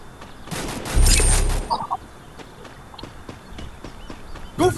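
Gunfire bursts in the battle-royale game Free Fire on PC: a dense, loud volley up front, then scattered lighter shots and clicks fading out, with a final shot at the end.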